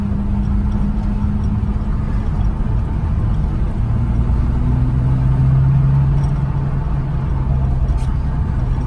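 A drift car's engine runs steadily through the streets of Paris, giving a constant close mid-pitched drone with a slight rise in tone partway through.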